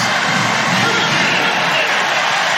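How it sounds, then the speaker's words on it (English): A football stadium crowd at a Marshall vs Bowling Green game roars in a steady, dense wash of cheering for a first down. The noise holds evenly throughout with no break. "And listen to the crowd. Listen to the crowd. They're giving it to him."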